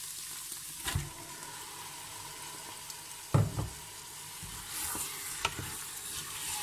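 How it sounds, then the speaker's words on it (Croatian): Beef hits softened, glassy sautéed onions in an open pressure cooker and sizzles steadily, with a few sharp clatters of stirring. The frying is close and moderately loud, with no talk. "Sada ću da dodam meso."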